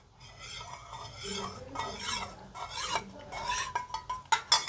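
Sherbet made with ragi flour and milk is stirred with a spoon over cut fruits, giving soft scraping and swishing close by, with sharper clinks of metal against the bowl toward the end.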